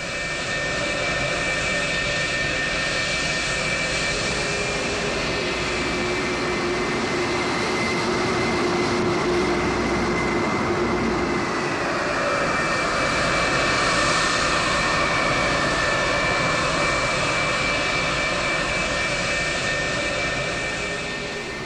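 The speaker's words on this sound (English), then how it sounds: "The airplanes now continue to taxi towards the end of the runway" Several F-104G Starfighter jet fighters taxi toward the runway end, a loud, steady engine roar and high whine holding continuously near and close with no pauses.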